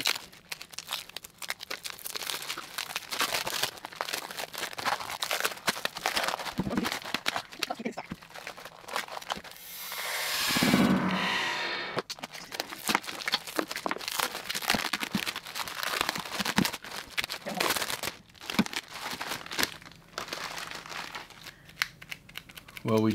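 Sticky plastic sheeting is cut and peeled off a resin sculpture, giving continuous close crinkling, tearing and rustling with a louder ripping stretch midway, and people talking now and then.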